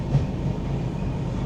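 Inside a Vistadome coach of the Mumbai to Goa Tejas Express on the Konkan Railway through hilly country, a steady, even rumble of the running train fills the cabin without any voices.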